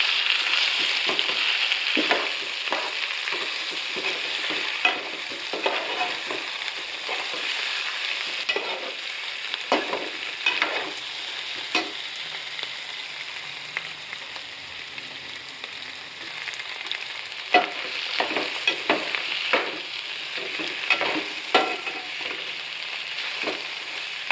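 Boiled potatoes for a potato curry fry and sizzle in a pan while a spatula stirs and scrapes them in repeated clattering strokes over a continuous bright hiss, close by and with no voices.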